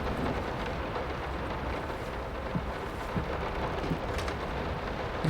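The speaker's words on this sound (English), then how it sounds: "Why is it raining?" Steady rain hisses and patters in a dark house in the horror game Layers of Fear, with low rumbling thunder underneath and a few faint knocks, no voices.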